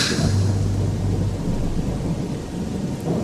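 Heavy rain drums steadily near a roadside stall in a tea plantation, loud and continuous, with a low rumble of thunder rolling through the first second and a half.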